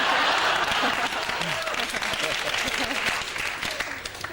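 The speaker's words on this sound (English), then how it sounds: "A round of applause for being crap." Studio audience applause on a 2000 British sports comedy panel show, a steady dense clapping that fills the room, with voices and laughter faintly mixed in underneath.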